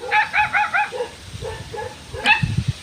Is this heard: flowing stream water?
no